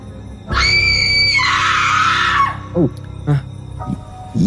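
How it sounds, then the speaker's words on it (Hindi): A girl's scream as a horror-story sound effect: one long, loud, piercing shriek of about two seconds that rises and wavers, followed by a few shorter, lower cries and gasps. "विकी को एक चीख सुनाई दी, एक लड़की की चीख"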